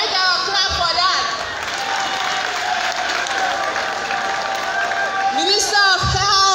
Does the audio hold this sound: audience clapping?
yes